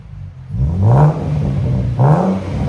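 A 2011 Ford Mustang V6 convertible revs twice, the exhaust rising and falling in two short bursts over a steady idle rumble, close by; the exhaust is no longer straight-piped and sounds less raspy.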